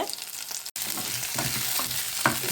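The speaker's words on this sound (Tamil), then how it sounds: "பச்சை மிளகா போட்டு நல்லா கிளறி விடுங்க" Green chillies fry with onions in a pan for tomato chutney while a spoon stirs them. Close, busy sizzling is broken by scraping strokes and a sharp momentary cut-out near the start.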